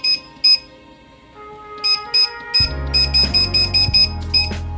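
Kitchen timer being set after acorn squash goes in to cook, giving a run of loud, sharp electronic beeps close by, first spaced apart and then quicker and repeated over a low rumble.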